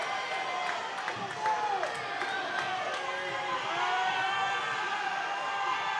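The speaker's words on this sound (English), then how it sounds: "Hear the crowd get into it, as we have a full house here tonight in FAR." Full-house high school boys basketball crowd in a gym cheering and clapping, a steady roar of voices with whoops, rhythmic claps and the squeak of sneakers at moderate distance.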